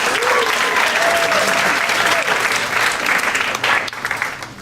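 Loud, close applause from a poetry night audience for a poet, dense at first with a whoop or cheer rising over it, then thinning and tapering toward the end.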